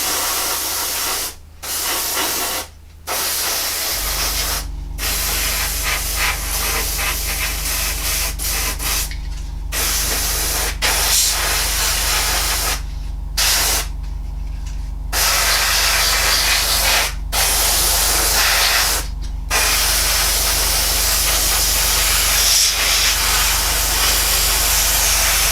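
Airbrush spraying a coat of paint onto a Revell 1/32 He111 model kit, a steady close hiss running in long bursts with brief gaps, over a constant low compressor drone.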